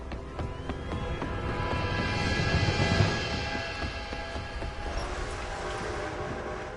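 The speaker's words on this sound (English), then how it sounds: "I think I hear something coming, Arthur." A train approaching in the video game Red Dead Redemption 2: a deep rumble and metallic clatter swell steadily louder, peak, then roll on at a sustained level.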